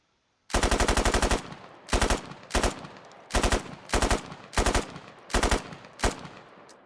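An AKS-74U rifle fires in the video game Squad, with one longer automatic burst followed by a series of short, sharp bursts separated by brief pauses, loud and close with no talking.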